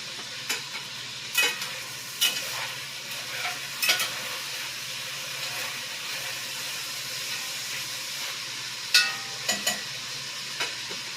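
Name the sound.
meat frying in a pan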